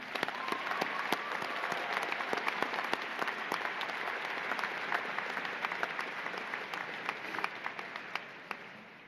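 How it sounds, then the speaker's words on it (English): Sustained audience applause fills a commencement ceremony for doctoral hooding, dense clapping from a large crowd that holds steady throughout and tapers slightly near the end. "If you could please give them a round of applause."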